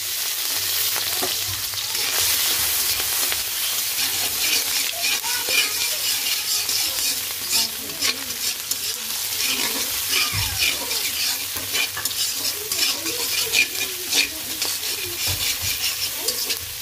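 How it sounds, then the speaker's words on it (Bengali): Shrimp frying in a pan for fried rice, a continuous close hiss and crackle of hot oil with occasional stirring clicks, steady throughout with no talking. "চিংড়ি মাছ ভাজবো।"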